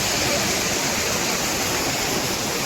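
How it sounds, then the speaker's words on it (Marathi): Dense, constant roar of the Tahuli waterfall near Ambernath, loud and unbroken, rushing water filling the whole clip. "पाणी एकदम प्रेशर मध्ये वाहतो आणि त्याच्यात हा धबधबा मस्त वाटतो"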